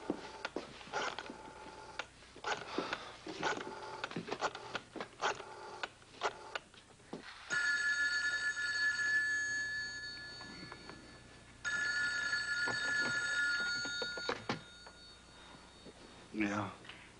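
A telephone rings in two long, steady electronic bursts after a stretch of indoor talk and movement, the second ring stopping short as a voice returns.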